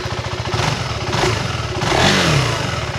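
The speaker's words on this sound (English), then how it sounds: "I'm gonna turn the bike on." A KTM 390 or Honda CRF300L motorcycle in neutral fires up and settles into a steady, close, throbbing idle with a brief rise in revs partway through.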